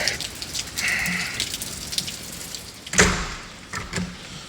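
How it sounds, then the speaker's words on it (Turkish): Rain falls at a hotel in Lara, Antalya, with patter and drips on surfaces. A few sharper knocks and splashes break up the steady wet hiss, and no one speaks. "yağmur tam zamanını buldu da neyse"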